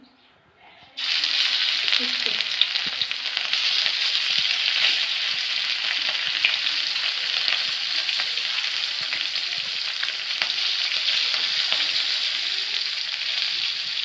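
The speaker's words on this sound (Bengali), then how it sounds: "মাছটা এভাবে সাবধানে তেলের ভিতরে ছেড়ে দিতে হবে" Spiced datina fish sizzles and fries in hot oil in a kadai, a steady dense crackle that stays loud and close after a quiet start, with no voices.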